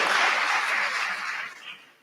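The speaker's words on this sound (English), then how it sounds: "A hearty round of applause for Muturi" A seated audience at a mentorship event gives a short burst of dense clapping that fades away after a couple of seconds.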